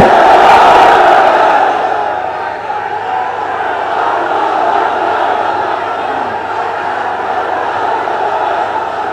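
A large outdoor crowd at a religious gathering shouting a takbir chant in response, a loud massed roar of voices that peaks at the start and then settles into a sustained rumbling murmur.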